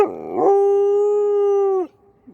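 A pet dog lets out one long, steady howl close by, holding a single sustained tone for over a second before it breaks off into quiet.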